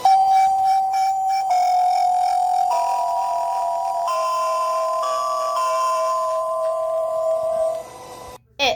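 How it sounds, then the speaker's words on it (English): A 1950 Indonesian emergency alert alarm plays a loud, sustained electronic melody of held tones that step up and down in pitch for several seconds, then breaks off abruptly. "Indonesian alarm from 1950"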